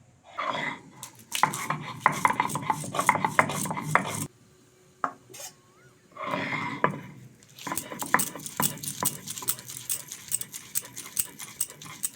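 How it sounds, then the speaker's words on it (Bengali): Spices being ground by hand on a flat sil-pata grinding stone, a loud rhythmic scraping and knocking of stone on stone in repeated bursts, pausing briefly midway, with no talk. "এদিকে এই মশলাগুলো আমি সব বেটে নেবো"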